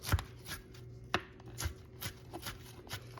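A knife chops salad ingredients, including pickles, on a cutting board in quick, uneven strokes, several sharp thuds over a few seconds, close and fairly quiet.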